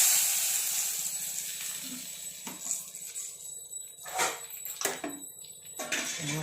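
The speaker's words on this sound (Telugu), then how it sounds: "ఈ పెరుగులో ఈ తాలింపు అంతా వేసేసుకోండి" Hot tempering poured into curd for a perugu pachadi, a hissing sizzle that fades, followed by a few clinks and stirring sounds of a utensil against the bowl.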